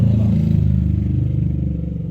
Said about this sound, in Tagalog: Ingay ng mga motorsiklo mga palangga.